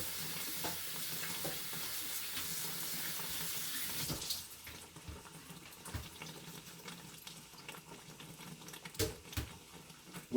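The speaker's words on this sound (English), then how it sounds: "I just sprinkled a little water on it, wash it off like I was washing it off again" Tap water runs steadily into a sink to rinse cooked spaghetti, a close hissing stream for about four seconds before it cuts off, followed by wet handling noises and a few clunks.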